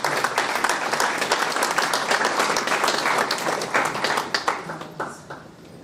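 A funeral congregation breaks into loud, sustained clapping that holds steady for several seconds, then thins into scattered individual claps as it tapers off.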